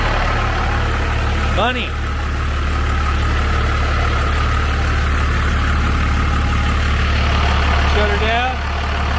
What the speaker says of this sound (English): We got the motor running